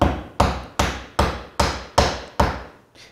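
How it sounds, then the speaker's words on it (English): Chisel struck with a mallet to clear dovetail waste from a wooden board, seven evenly spaced sharp knocks ringing close and loud, with no talk. "So what I like to do is put it in the waist and chisel it out first."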